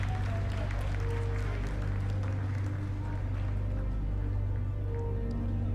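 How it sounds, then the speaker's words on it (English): Applause at mission control during the Chandrayaan-3 lunar landing rolls on steadily as a dense patter of clapping over a constant low hum, with voices mixed in. "Lot of applause"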